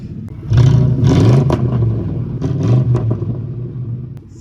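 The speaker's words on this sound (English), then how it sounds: "I'm gonna start her up, see how many miles it's got" A car with a muffler delete and a little over 330 thousand miles runs just after start-up, its loud, raw exhaust rumbling close by with a couple of throttle blips before it settles toward idle.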